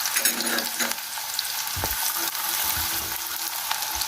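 Sliced onions fry in hot oil for kalthappam, a loud continuous sizzle with occasional stirring scrapes, close up and without voices.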